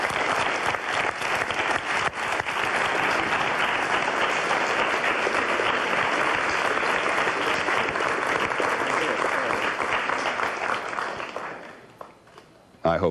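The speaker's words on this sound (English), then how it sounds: "I hope they know that they're applauding themselves." A studio audience at a television news broadcast bursts into loud, dense, sustained applause that holds evenly for about eleven seconds before tapering off near the end.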